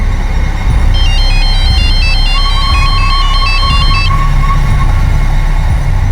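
A phone plays a warbling electronic ringtone, a repeating two-tone melodic pattern lasting a few seconds over a low, rumbling background.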